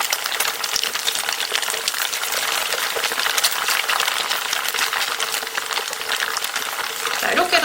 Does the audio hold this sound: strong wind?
no